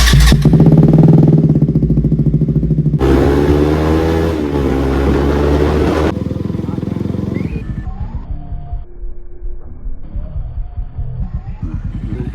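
A KTM RC200 motorcycle engine revs loudly up close, with throttle blips rising and falling over a steady idle, and a voice speaks partway through.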